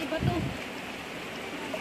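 Water flowing from a natural spring, a steady wash of running water under a voice speaking near the source.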